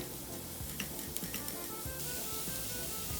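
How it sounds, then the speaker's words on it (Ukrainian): Soft, steady sizzling of onion and carrot frying in butter in a pan, with faint stirring clinks and a low background hum, quiet and continuous. "На вершковому маслі все це смажимо."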